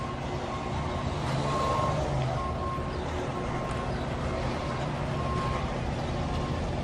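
A tow truck reversing on a street, its intermittent high beeps sounding over a steady, loud diesel engine rumble with traffic noise behind, repeating at irregular intervals.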